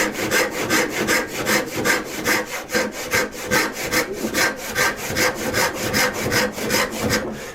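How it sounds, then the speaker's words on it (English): Hand saw drawn back and forth through a wooden board to start a kerf, a steady rhythmic rasp of about three strokes per second, close and clear with no talk. "I'm making a kerf on my side of the board, allowing the other side to follow"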